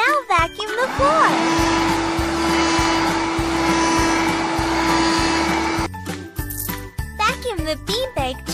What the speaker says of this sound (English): Now vacuum the floor.